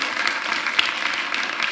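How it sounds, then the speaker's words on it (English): Audience applause follows a call to clap for a colleague's work at an online panel discussion, a steady spatter of claps at moderate level with no talk over it. "let's give a round of applause for that amazing work"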